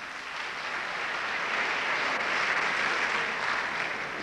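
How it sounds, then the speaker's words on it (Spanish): Crowd applause at a live comedy show in Paraguay, a broad wash of clapping that swells slightly midway and holds steady, with no voices over it. "pues un aplauso fuerte para él."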